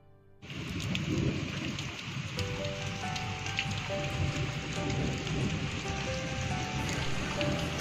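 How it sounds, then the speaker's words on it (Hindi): Heavy rain pours steadily on a mountain village, a dense continuous hiss and patter with low rumbling of thunder underneath, beginning abruptly and holding at a loud, even level throughout. "बारिश फिर से लग गई है गांव में, ये देखिए बहुत तेज़ बारिश हो रही है"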